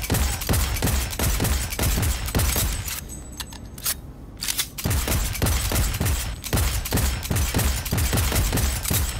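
Rapid automatic gunfire in the video game Cyberpunk 2077, dense rhythmic bursts of loud shots with a short pause midway before firing resumes just as fast.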